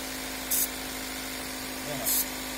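A 2009 Toyota Corolla engine idles high in a steady, even hum, broken by two short hissing bursts.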